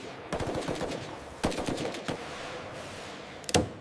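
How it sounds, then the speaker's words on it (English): An AK-47 rifle fires in fast, sharp automatic bursts with loud close cracks, followed by a few separate heavy shots and a ringing tail in between. "During combat training, the AK-47 proves its worth with every shot."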